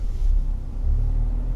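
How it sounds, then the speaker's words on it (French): A Renault Alaskan pickup crawls over a section of logs on an uphill off-road track at light throttle, its engine a steady, close, low rumble with a slight rise and fall. "Là, sur cette petite section à rondins, c'est vraiment un filet de gaz."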